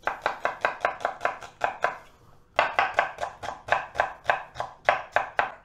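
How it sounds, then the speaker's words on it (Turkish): Onions finely chopped with a knife on a board, a steady fast run of crisp, even chops close to the ear with a short pause partway through before the rhythm resumes. "Bu soğanlarımızı hemen böyle ince ince doğruyoruz."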